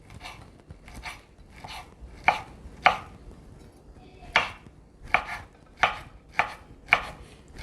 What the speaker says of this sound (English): Then cut it in thin slice.